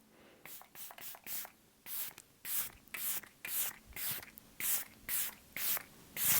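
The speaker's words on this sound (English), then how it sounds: "That is a very, very fine mist of a setting spray." Repeated short hissing bursts of Hard Candy Look On Lock makeup setting spray, a very fine mist pumped about a dozen times in a quick, even rhythm, close and fairly quiet.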